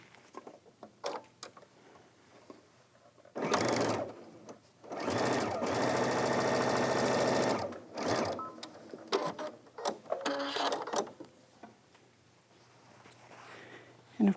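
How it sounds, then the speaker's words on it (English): A sewing machine stitching the front and back facings of a pair of slim pants together, running in two close bursts of steady whirring with quieter handling sounds around them. "we need to sew our facing to our two facings, the back facing and the front facing, together"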